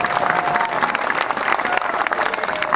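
A gathered village crowd at a Congress gram panchayat committee meeting claps steadily for the new office-bearers, dense sustained applause throughout with no pause.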